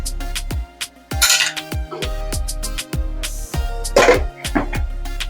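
A metal lid clatters onto a pot of paprika chicken drumsticks, several close metallic clanks and rattles with ringing tones, sharp and loud in the quiet.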